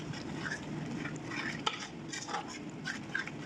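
Arabic makboos spice mix and turmeric being stirred into cooked tomatoes in a pot, a spoon scraping and clinking steadily over a low simmering sizzle, close and fairly quiet.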